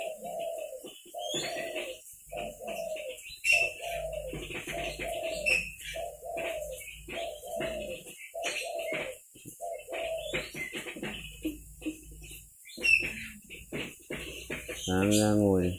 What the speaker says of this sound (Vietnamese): nghe chim gù đấu.